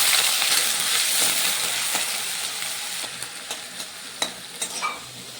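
Small potato pieces fry in hot oil with a steady, close sizzle, joined toward the end by a few sharp clicks and spatula taps.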